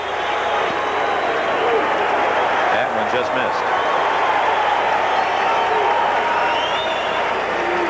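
Crowd at a 1981 NLCS Game 2 baseball broadcast in Los Angeles, a steady distant roar of cheering and murmur filling the stadium beneath a commentator's voice.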